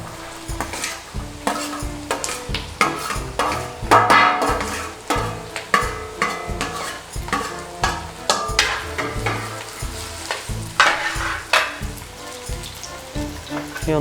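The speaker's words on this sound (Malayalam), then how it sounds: "അതിലേക്ക് നമ്മളിനി വലിയ ഉള്ളി സവോള ഇട്ട് കൊടുക്കുകയാണ്" Onions are frying and being stirred in a pan for a Chettinad mutton roast, with steady sizzling under repeated scraping and clattering strokes of a spoon close by across the whole stretch, and no talking.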